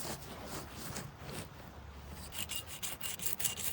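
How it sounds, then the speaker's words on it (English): Rough, rhythmic rubbing and scraping of sandstone against a wooden arrow shaft, close up, strokes repeating steadily with no talking. "I'm going to start sanding these down."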